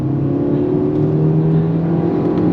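A Toyota Urban Cruiser engine revs hard under full throttle, a steady loud droning roar with strong low harmonics held throughout, heard from inside the cabin.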